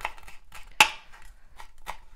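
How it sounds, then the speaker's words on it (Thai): Fresh herbs such as coriander or parsley are chopped into small pieces for a salad dressing: one loud, sharp knife strike on a board among several softer, scattered cuts nearby. "คุณก็หั่นไปเล็กๆๆๆเนี่ย"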